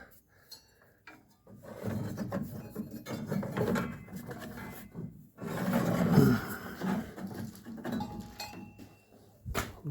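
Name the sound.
removing belt from 1968 Camaro alternator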